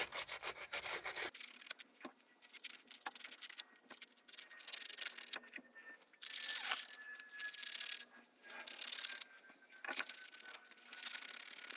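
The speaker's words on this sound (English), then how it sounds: "use some sandpaper to sand down the surface in here. I'm using 80 grit aluminum oxide sandpaper." Coarse 80 grit aluminum oxide sandpaper scrapes back and forth over a Subaru Outback's wheel hub surface in quick, irregular rasping strokes, close and fairly quiet with brief pauses between bursts.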